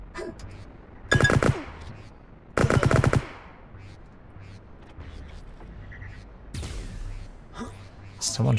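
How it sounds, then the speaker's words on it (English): Automatic gunfire in the video game Liblast comes in two loud, rapid bursts early on, followed by sharper scattered shots later, with quieter game ambience and breathy vocal sounds between them. "Someone shooting at me."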